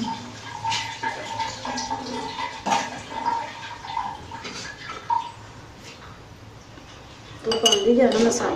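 Spoon clinking against pots and dishes while pakoras of potato and onion are prepared, light scattered metallic taps under conversation, with a louder clatter near the end.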